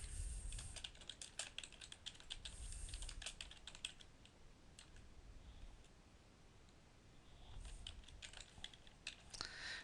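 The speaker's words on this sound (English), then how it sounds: "And in here I would type my question." Someone types a question on a computer keyboard, a stream of quick light key clicks in bursts with short pauses, fairly faint and close, with no talk.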